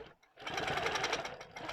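A longarm quilting machine stitches a quilt binding, a steady close-up whirring rattle of rapid needle strokes running almost continuously after a brief pause at the start.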